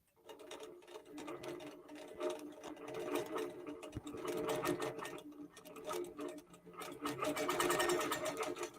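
A QBOT computerized quilting machine stitches a quilt with a rapid, steady mechanical chatter of needle strokes that rises and falls slightly, close and clear with no talking.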